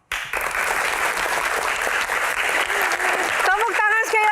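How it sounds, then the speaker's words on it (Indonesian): An audience at a disaster-response Q&A show bursts into loud, sustained applause that fills the clip, with a voice speaking over the end of the clapping. "Tepuk tangan sekali lagi Bapak Suharyanto."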